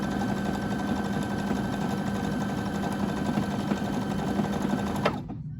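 A Baby Lock Jubilant sewing machine runs steadily, overcasting and slightly stretching fabric at a raw edge with an even, close mechanical whir that stops abruptly near the end.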